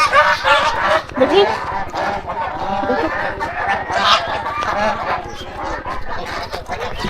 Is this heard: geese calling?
yes